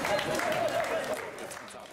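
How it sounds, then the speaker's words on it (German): Steady clapping from a crowd at a charity cycling tour stop in Lauterbach, dense and continuous, with a voice faintly audible underneath and fading slightly toward the end. "lassen Sie Ihren Applaus nicht abreißen."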